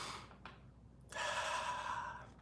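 A person breathes in and out audibly: a short intake, then a longer, louder exhale rushing out close to the microphone.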